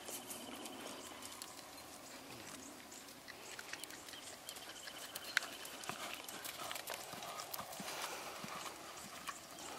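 Horse hooves cantering in a steady three-beat clip-clop rhythm at moderate distance on an outdoor jumping course, continuing evenly throughout with light background ambience and no talk.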